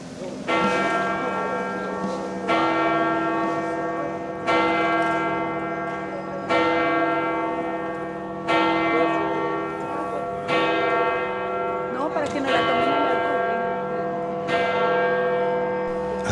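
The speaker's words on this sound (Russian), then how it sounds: "Колокол." Church bell of Il Gesù in Rome ringing at nine in the morning, loud resonant strikes repeating about every two seconds with long ringing overtones, heard outdoors.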